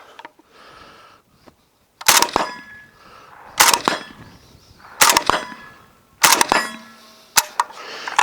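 Suppressed Zastava pistol test firing outdoors: four sharp, loud muffled reports spaced roughly a second and a half apart, each with a metallic clang and ringing tail, after a quiet start.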